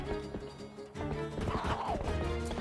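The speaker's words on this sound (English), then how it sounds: "I hear a horse." Epona, the horse in the video game The Legend of Zelda: Twilight Princess HD, gallops with rhythmic hoofbeats and lets out a loud whinny midway, set against game music.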